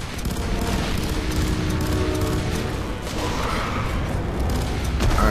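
Dense, continuous gunfire from the shooter F.3.A.R fills the whole stretch: a loud, unbroken wash of rapid shots and mechanical clatter with no pauses.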